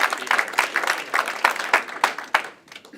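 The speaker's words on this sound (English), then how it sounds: "Let's give him a round of applause." Audience applauding a speaker at a community coalition meeting, a short burst of scattered hand claps that thins out and fades, close and fairly loud with no talking.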